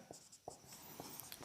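Quick strokes of writing on a classroom board during a geography lesson, a series of short, sharp scratches and taps spaced irregularly over a quiet room.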